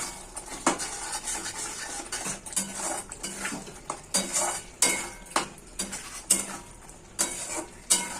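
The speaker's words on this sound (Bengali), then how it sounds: "আমি আবার একটু নাড়াচাড়া করে দিলাম।" Spiced egg curry masala stirred in a pan, a spoon scraping and clinking against the metal in irregular bursts with faint sizzling underneath, close and fairly loud.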